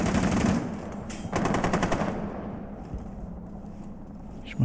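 Rapid automatic gunfire in Rainbow Six Siege, two close, loud rattling bursts of fast repeated shots with a short gap between, then quieter reverberant tail and a final sharp shot.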